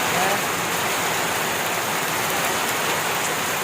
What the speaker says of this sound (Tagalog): lakas ng ulan dito sa amin mga tropa